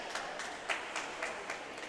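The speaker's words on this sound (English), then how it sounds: "Getting some applause from the crowd" Scattered clapping from a crowd at a high school swim meet, a few sharp claps spaced irregularly over a steady background hiss of the pool hall.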